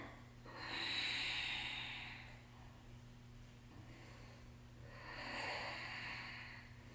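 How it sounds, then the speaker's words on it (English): Slow, deep breathing during a beginners' yoga flow: a long breath in followed by a drawn-out exhale, then a second breath, soft and close with no talking. "One more big breath here, breathing in."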